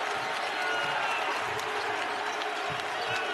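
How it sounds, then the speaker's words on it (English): An arena crowd at a St. John's college basketball game rises and applauds, a sustained wash of clapping and cheering that stays loud and even, with faint court sounds and a commentator talking underneath. "This crowd stands now here at the world's most famous arena."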